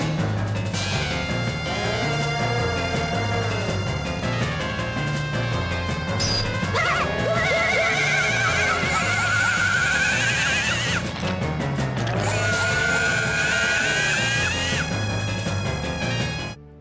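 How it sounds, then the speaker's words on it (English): A harsh, distorted, otherworldly scream from Majora's Mask wails and warbles over a loud, dense game soundtrack, fading briefly midway before rising again. "lets out a nightmarish scream"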